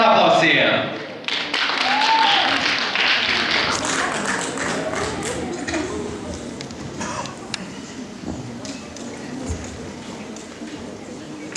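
An audience at a song festival applauds a seven-year-old girl performer, a loud burst of clapping at the start that settles into a sustained, gradually fading patter, with a voice speaking over it.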